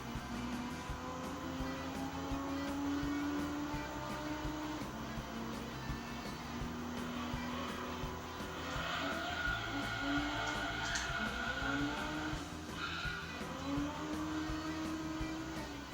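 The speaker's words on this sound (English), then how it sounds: "this V-Racing engine with the racing muffler sounds kind of familiar to the other engine or the other manufacturer" Chrysler Viper GTSR racing engine with a racing muffler in the Gran Turismo 3 video game, a sustained loud engine roar rising and falling through gear changes over about sixteen seconds, with no talk.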